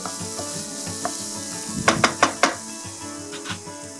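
Cooked moong dal is stirred into a pot of milk payasam, a quick run of four close spoon-against-pot clinks over a steady low kitchen hum, with light scraping around them.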